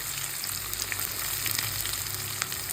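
Onions sizzle and fry steadily in hot oil for an Uttar Karnataka sagu tempering, a continuous close crackling hiss with no talk.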